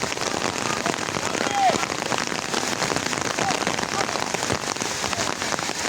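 Steady rain patters on a hard surface throughout, a dense even hiss with scattered drop impacts, loud and close, with a faint voice briefly under it.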